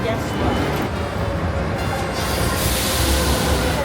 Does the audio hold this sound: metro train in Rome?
yes